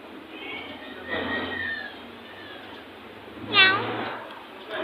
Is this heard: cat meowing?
yes